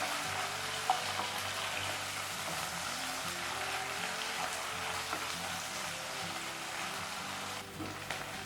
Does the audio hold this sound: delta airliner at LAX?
no